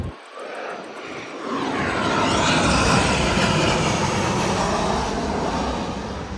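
A fixed-wing airplane passes close overhead near a rural village yard with chickens, its jet engine roar swelling quickly from quiet into a loud, sustained rumbling whine that holds strong throughout.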